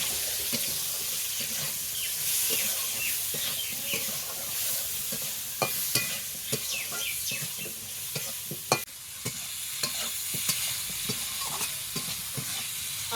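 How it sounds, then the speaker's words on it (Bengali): Raw mango pieces sizzle steadily in a hot pan while a utensil stirs and scrapes, with frequent clicks and taps against the metal. "আমগুলো অল্প করে আমি ভেজে নেবো"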